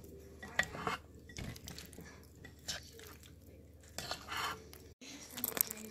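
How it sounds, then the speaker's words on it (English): Butterscotch melting in a pan is stirred with a utensil, giving soft scraping, gentle clinks against the pan and sticky squishing at close range, steady with small bursts. "I think if I just keep stirring this, those lumps will go out."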